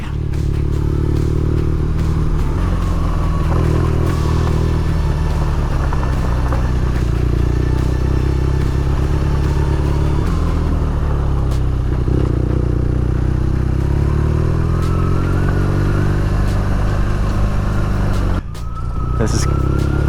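Motorcycle ride along the Pacific Coast Highway, the engine droning loud and steady throughout with shifting pitch as it accelerates and eases off, broken by a brief dip near the end.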